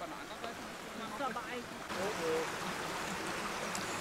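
A stream burbles and trickles close by on a hiking trail, a steady watery wash that swells midway while a voice is faintly heard.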